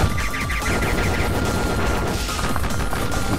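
Dense, continuous rapid gunfire from the bullet-hell video game Enter the Gungeon, loud and unbroken, with layered shots and crashing impacts overlapping throughout.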